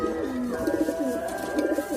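Domestic pigeons kept for racing and tournament flying coo continuously at close range, several birds overlapping in a low, throaty rolling murmur with no talk.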